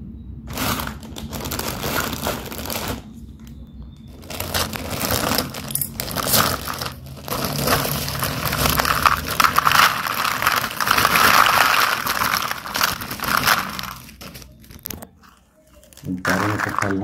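A plastic candy packet, a wholesale pack costing about 140 taka, is cut open with crinkling, tearing plastic and scissor crunches, close and fairly loud, with a voice talking over much of it.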